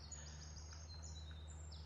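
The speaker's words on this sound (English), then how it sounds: "And you can hear the birds" Birds sing in a woodland, faint high chirps and short trills repeating far off over a steady low hum.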